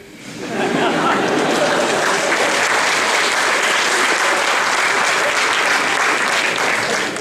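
Audience at a talk applauding a speaker's joke, a broad, sustained burst of many people clapping that rises quickly and holds steady and loud for several seconds, with faint crowd chatter mixed in.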